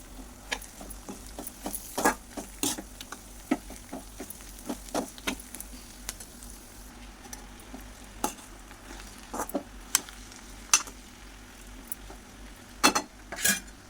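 Ridge gourd tossed with fried onions in a hot pan, a steady sizzle beneath scattered close scrapes and clinks of a spoon stirring against the metal, with no talking.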